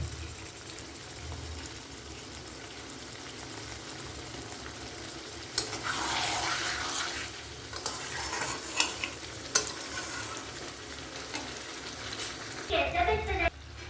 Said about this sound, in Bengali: এখানে পরিমাণ মতো আমি জল দিয়ে দিচ্ছি